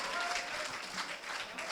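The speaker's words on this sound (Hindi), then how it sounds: "एक बार और जब वो इस माइक तक आए तो तालियां बजाकर उसे आमंत्रित करें।" An audience at a Hindi poetry gathering claps to welcome a poet to the microphone, a soft, continuous patter of many hands heard at a distance.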